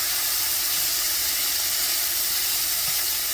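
Beef tips browning in a hot pan, giving a steady, even sizzle and hiss that stays close and unchanged throughout, with no talking.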